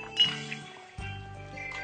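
Soft glassy clinks and small liquid sounds from a kids' tablet game where coloured liquids are poured together to mix perfume, a few quiet chimes over a light musical backdrop.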